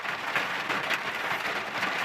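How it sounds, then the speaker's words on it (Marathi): A heavy monsoon downpour in Kolhapur, heard from inside a car, makes a dense, steady roaring hiss throughout with no pauses and no voices. "आमच्याकडे धो पाऊस, कडकड विजा, झन जावताचा वारा"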